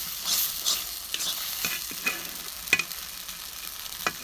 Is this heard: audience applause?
no